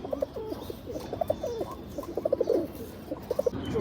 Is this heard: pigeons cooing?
yes